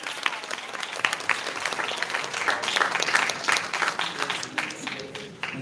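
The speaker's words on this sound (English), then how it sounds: "I want you all, please, to welcome him by way of a hand clap" Moderate audience applause at a cancer research conference, steady scattered clapping from a medium-sized crowd lasting the full few seconds, with no talk over it.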